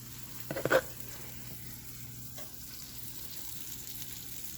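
A breakfast sandwich cooking in a frying pan, a faint, even sizzle after a brief clatter from the flip near the start.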